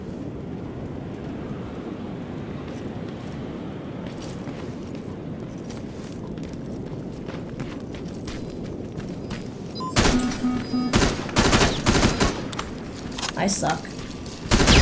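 Assault rifle gunfire in the shooter game Terminator Resistance, rapid bursts that crackle loud and close in the last few seconds after a steady hum of ambient noise, with someone briefly speaking.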